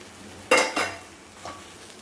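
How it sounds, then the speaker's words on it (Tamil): Potato being stirred into a frying pan mixture for aloo paratha filling: two quick scraping, sizzling stirs close by, then a fainter third scrape, with no talking. "இந்த பொட்டேட்டோவையும் போட்டுக்கலாம்."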